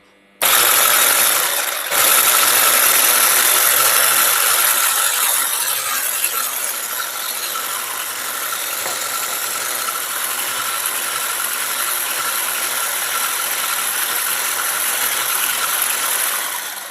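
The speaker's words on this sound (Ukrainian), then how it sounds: "виливаю помаленьку до йогурту і перемішую міксером" An electric hand mixer whirs steadily as it blends yogurt with melted gelatin for a strawberry-yogurt mousse dessert, starting abruptly with a brief hitch near the beginning, then holding a loud, even motor drone throughout.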